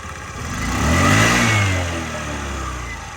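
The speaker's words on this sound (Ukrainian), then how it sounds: "Робота двигуна." Honda Dio AF-68 injected scooter with basket, its small engine running steadily and revving up to a peak before settling back, heard close and loud with no talk over it.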